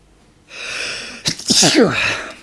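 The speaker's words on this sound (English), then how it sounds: "I'm going to sneeze." A single loud sneeze bursts out after a short breathy intake, close and sudden.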